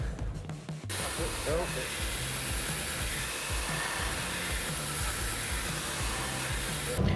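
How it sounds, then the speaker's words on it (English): A grinder working a knife blade, giving a continuous loud, close abrasive whir and rasp that holds steady for several seconds after a brief opening rustle. "And we'll start grinding the blade down."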